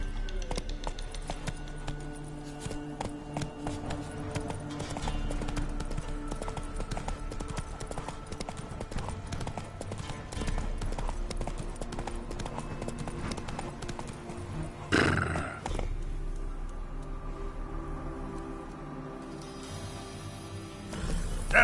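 Roach, a horse in a video game, trots with a steady, rhythmic clip-clop of hooves. A brief louder burst, like a snort or whinny, comes midway, and a voice is heard faintly at times.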